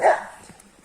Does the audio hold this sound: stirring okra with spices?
no